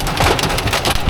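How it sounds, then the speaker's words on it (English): Dense, steady pelting rattles loudly on a vehicle close by, a continuous drumming of hail with no pauses. "hail is back."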